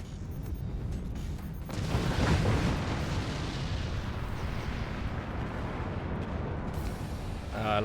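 A chain of explosions in the artillery game Forts, rolling booms and rumbling blasts piling on each other for several seconds, swelling after the start and then holding as a dense, steady roar.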